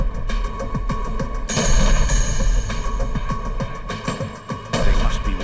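Guards open fire on a gunman in a reenacted Las Vegas crime scene. Loud, sharp gunshots crack repeatedly in rapid bursts with heavy low booms, close and dense throughout.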